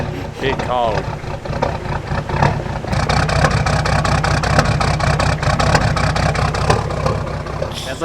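A car engine idles roughly in the cold at a camping site, chugging unevenly like a single-cylinder putt-putt motor, loud and close, with people talking over it.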